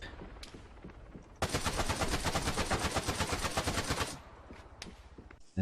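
An AK-12 7.62 assault rifle fitted with a grenade launcher, in the video game Arma 3, fires one sustained rapid burst of about three seconds, sharp and loud, between quieter background sound.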